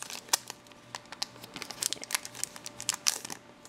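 A Pokémon trading card booster pack from an Ultra Prism Trainer Elite Box is torn open close up, with irregular crinkling and sharp tearing crackles of foil wrapper.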